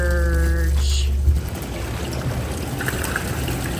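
A hot tub drains out, with a low mechanical hum at the start before it stops, leaving a continuous trickling, gurgling rush of water running steadily close by.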